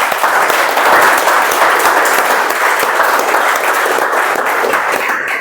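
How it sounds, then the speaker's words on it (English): Sustained audience applause at a Toastmasters club meeting, a dense, steady wash of many hands clapping close by throughout, loud and continuous with no talk over it. "Let's have a huge round of applause for everyone."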